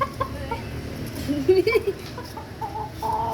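Small chick clucking and peeping close by in a playful moment, with soft pecking taps mixed in and brief bursts of calls over a faint background.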